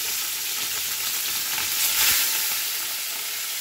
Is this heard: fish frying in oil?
yes